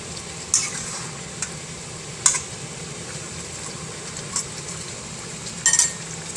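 A salmon head simmers and sizzles in coconut milk in a pan, a steady bubbling bed broken by a few soft scrapes and clinks of a stirring utensil.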